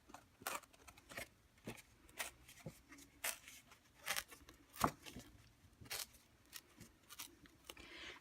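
Buffalo check paper for a handmade card is torn by hand in short ripping bursts, close and fairly quiet, with small crackles and rustles between the tears and no voice.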